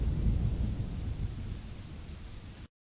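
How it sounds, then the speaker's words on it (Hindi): Cartoon sound effect of a loud thunder rumble over heavy pouring rain, a dense roar for nearly three seconds before it cuts off abruptly. "अचानक आकाश में तेज बिजली कड़की और मूसलाधार बारिश शुरू हो गई।"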